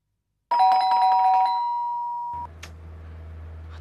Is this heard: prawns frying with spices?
no